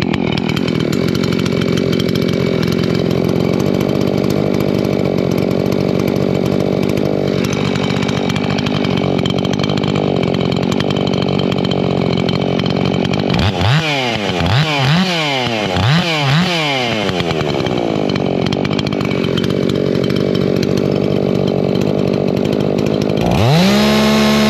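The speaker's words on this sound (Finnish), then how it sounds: "Niin katsotaan nyt, mitä saha kiertää." A lightly tuned Makita chainsaw screams at maximum revs, loud and close, holding a steady high whine with a few sharp rev dips and recoveries midway, running alone without speech.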